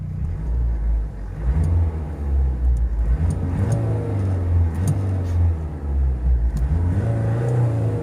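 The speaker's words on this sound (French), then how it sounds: "on peut voir le bruit assourdissant de ce véhicule" A loud car engine runs steadily close by, a deep rumbling drone that rises and dips slightly in pitch throughout.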